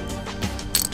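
A Chrissy Miller ratchet wrench clicking while a car exhaust is being swapped, a quick run of close mechanical ratchet clicks within about a second.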